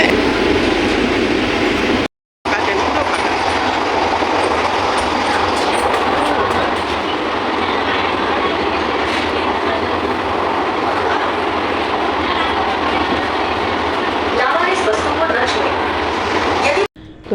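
A Ranaghat–Sealdah AC commuter train running between stations toward Chakdaha, a loud continuous rumble with rhythmic wheel clatter and cabin noise throughout, briefly cutting out near the start, with voices faintly mixed in.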